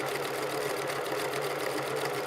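A sewing machine stitching a circular seam runs at a steady, even buzz, close and continuous throughout.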